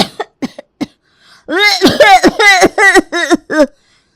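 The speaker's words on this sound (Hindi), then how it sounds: "अरे बहू कितना खांस रही हो तुम।" A woman coughs in a home setting, with a few short, sharp bursts early on and then a longer run of repeated, strained coughs that sound close and loud.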